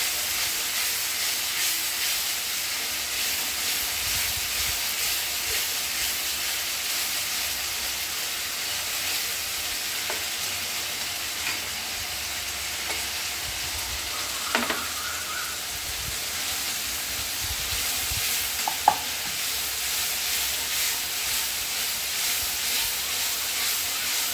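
Masala for chicken vorta fries in a pan with splashes of chicken stock, a steady low sizzling hiss with occasional faint scrapes and clinks of stirring throughout.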